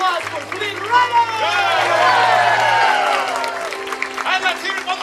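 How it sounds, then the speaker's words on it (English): An audience at a Disneyland Tangled live show applauds for Flynn Rider, crowd clapping and cheering swelling under a loud amplified announcer's voice and music. "Round of applause for Flynn Rider!"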